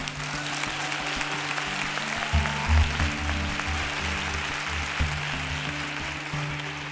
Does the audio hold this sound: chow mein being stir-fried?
no